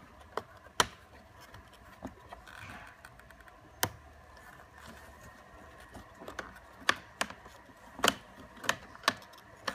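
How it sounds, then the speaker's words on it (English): Plastic trim is pried off a 2004-2009 Toyota Prius instrument cluster, giving scattered sharp clicks and snaps at irregular intervals, close and fairly quiet against a soft background hiss. "you basically pop this plastic off"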